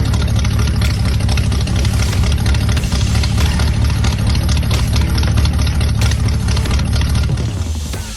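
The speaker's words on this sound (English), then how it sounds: "That is his Chevy truck sitting there idling" Chevy truck engine idling nearby, a steady loud low rumble with a faint knock, holding even throughout and easing slightly at the very end, with no voices.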